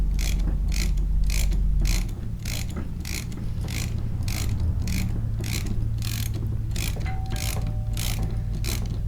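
Regular ratcheting clicks from a wrench tightening 5/8-inch head bolts on a lawnmower blade, a steady close-up rhythm of about two clicks per second over a low mechanical hum.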